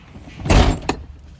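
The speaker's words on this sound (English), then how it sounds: "Guess I just have to shut my door really hard." A Chevy car door shut hard, a single close, heavy thump with a short rattle, followed by a smaller knock, with no talking.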